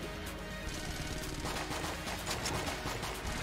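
Rapid AK rifle fire in the video game Enter the Gungeon, a sustained automatic stream of shots that grows denser and louder partway through, with game effects layered underneath and no talking.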